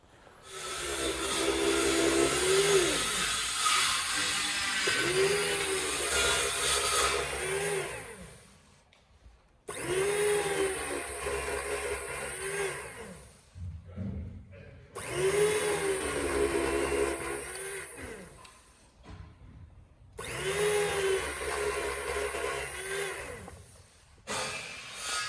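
About 2.5 kilos of ribeye beef being sliced, heard as a loud mechanical whirring that runs in four long bursts separated by brief silences, with no voices.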